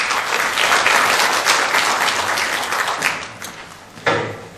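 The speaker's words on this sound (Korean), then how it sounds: "박수로 맞이해 주시기 바랍니다" Audience applause at an academic symposium on hanok architecture as a Seoul National University professor is welcomed to the stage, a dense, sustained clapping that thins slightly before a brief louder burst near the end.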